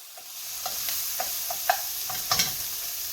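Chopped onions cooking down in a hot pan for shrimp and mushroom Marsala: a soft steady sizzle broken by about ten short, sharp scrapes and taps of a utensil stirring, close and fairly quiet, with no talking.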